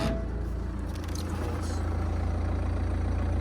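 The engine of a wrecked 2018 BMW M220 automatic idles in a steady, close, low rumble with an even pulse, while faint higher noises flicker briefly above it early on.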